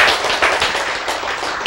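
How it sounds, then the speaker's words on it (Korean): An audience at a Korean lecture on genes claps hands, producing a dense, steady patter of overlapping claps that continues loudly throughout without pause. "박수 쳐야지"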